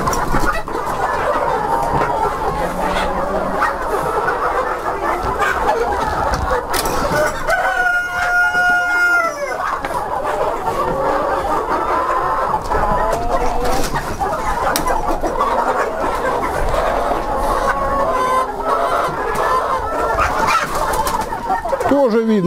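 A rooster crows loudly once amid a busy flock of clucking, chattering chickens at feeding time, with a steady din of poultry throughout.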